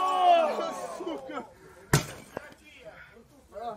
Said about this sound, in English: Sanchez kicks a light tube bundle into his back